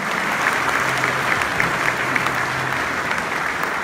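Steady applause from a church audience at a wedding ceremony, dense and continuous with no break, a crowd clapping together at moderate distance.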